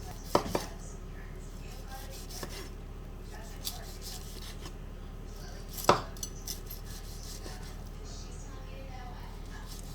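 Knife chopping doner kebab ingredients finely on a board: a few close, sharp cuts near the start and one loud chop midway, with scattered softer taps and scraping against a low room hum.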